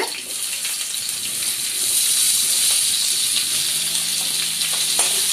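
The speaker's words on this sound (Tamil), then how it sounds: "இப்ப நான் இதுல வந்து வெங்காயம் சேர்த்துக்கிறேன்." Onions sautéing in a pan for paneer butter masala, a continuous soft hiss and sizzle at close range, with no talk.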